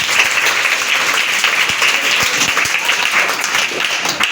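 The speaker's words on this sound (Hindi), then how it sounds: "डॉक्टर सर्वपल्ली राधाकृष्णन के नाम पर जोरदार ताली।" Loud, dense applause from an audience at a Teacher's Day event in India, continuous clapping filling the whole stretch with a few sharper individual claps standing out.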